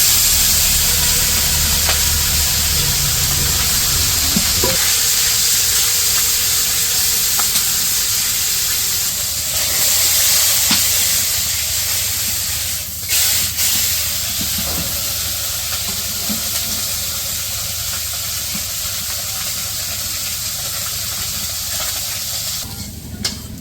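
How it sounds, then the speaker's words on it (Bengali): Spiced fish frying in mustard oil in a wok, a steady loud sizzling hiss that runs close and continuous, with occasional faint pops and clatters and no talk. "মাছগুলো ভাইজা নিব।"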